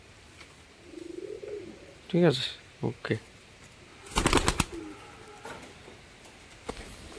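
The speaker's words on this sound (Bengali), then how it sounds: "এটা কি পায়রা? এটা গ্রিবাস পায়রা" Pigeons kept for sale coo softly in short low murmurs, with a few wing flutters, while people talk nearby.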